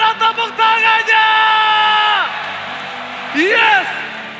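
An esports grand final crowd in an arena: a host's drawn-out shouted call rings over the noise, then a broad wash of cheering and applause rises, with a second whooping voice near the end.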